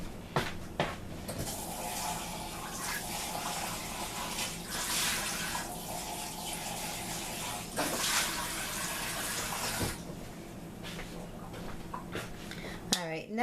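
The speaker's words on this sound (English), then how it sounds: "I'm going to rinse my thing because I'm going to use it again" A kitchen tap runs while a utensil is rinsed, giving a steady splashing wash for about ten seconds with clinks and knocks, fading to quieter room sound near the end while a person talks.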